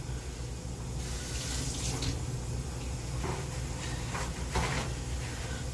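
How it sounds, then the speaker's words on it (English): Tap water runs steadily over a pot lid being rinsed at a kitchen sink, a continuous close splashing wash with a few brief clatters of the lid shifting under the stream. "I'm just going to rinse this top under some water."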